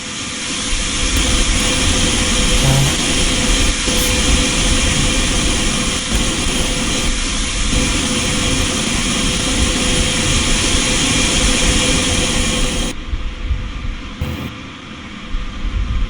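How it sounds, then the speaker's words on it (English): Loud, steady roar of a DC-9 jet airliner's engines in Microsoft Flight Simulator 2020, a continuous broadband drone held close for most of the stretch before dropping off sharply near the end, with no talking. "See, the DC-9 is really noisy."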